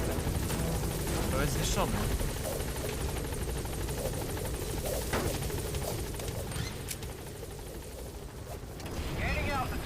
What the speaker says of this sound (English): Kurde, helikopter jak się ulepszy jest dobry, naprawdę